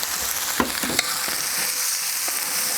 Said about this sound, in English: Give them a nice stir.